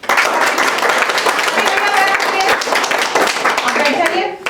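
A group claps loudly and close for the winning team of a school quiz competition, brisk dense applause with voices mixed in, stopping abruptly at the end.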